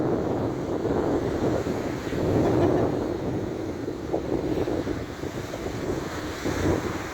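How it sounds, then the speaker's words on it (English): Wind and surf on a beach in Wexford, a continuous broadband roar of breaking waves with gusty wind buffeting the microphone, swelling and easing without any speech. "we're on a Wexford beach"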